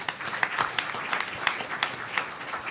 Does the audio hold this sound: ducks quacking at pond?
no